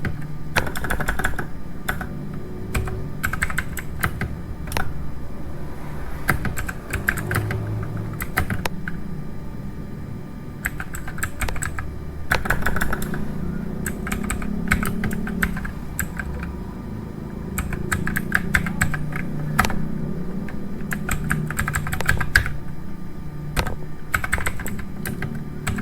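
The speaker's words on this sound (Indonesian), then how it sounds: "Kita ketik spanning" Continuous typing on a computer keyboard while entering a spanning tree configuration command on a network switch, with rapid bursts of clicking keys and brief pauses between them, steady and close.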